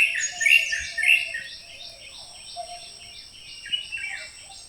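Several kinds of birds chirp and sing near the Kabini river bank in Wayanad, with repeated bright calls in the foreground and a faint hum of insects beneath.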